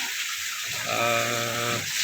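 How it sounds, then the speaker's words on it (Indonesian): Boer goats in a pen on a goat farm in Boyolali bleat once in a drawn-out wavering cry, heard close over a steady rushing background noise. "ini juga kandang kambing-kambing"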